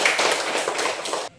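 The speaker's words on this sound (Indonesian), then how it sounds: "Tepuk tangan untuk dia." A small group claps in a quick burst of applause lasting about a second, then it stops abruptly.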